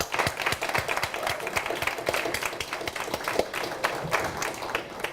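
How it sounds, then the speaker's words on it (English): An audience at a fall poetry reading gives the event organizers a round of applause: many hands clapping in a lively, irregular patter, moderately close and sustained. "Can we give them a huge round of applause,"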